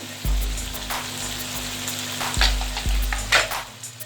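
Spices with salt, red chilli and turmeric fry for chana dal, a soft sizzling hiss broken by a few low thuds and scraping stirs of the spoon in the pan.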